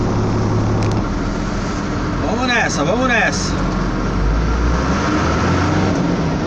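A truck rolls along a city road in Campo Limpo, São Paulo, with a steady low engine drone and road rumble, a brief rising whine midway, and someone speaking briefly over it.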